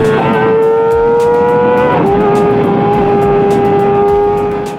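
Kawasaki Ninja ZX-25R four-cylinder motorcycle engine revving loud and close with a high, sustained, tonal whine. The pitch holds, drops briefly, then settles at a steady high rev.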